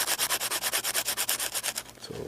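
Sanding block rubbed briskly back and forth over the back of blades, about a dozen even, rhythmic scraping strokes, close and fairly loud, slowing and fading out at the end into a faint hum.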